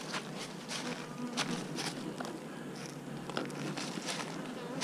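Honey bees buzz steadily inside small two-frame nucleus hive boxes, a close, continuous droning hum with scattered wing flicks and no voices.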